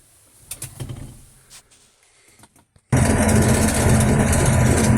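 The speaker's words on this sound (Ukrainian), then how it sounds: "Зараз ще покажу з комбайна як молотиться." A combine harvester threshing corn in a field, its threshing drum turning at about 400 rpm, starts after a near-quiet stretch of faint rustles and bird calls, then roars in abruptly as a loud, steady, close machine drone.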